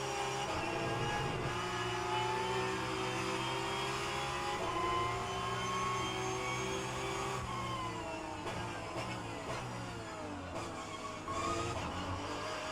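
Race car engine in rFactor 2 at Circuit Zolder, revving hard and continuously, with harmonics climbing and dropping through gear changes and several rapid downshifts near the end, loud and steady throughout.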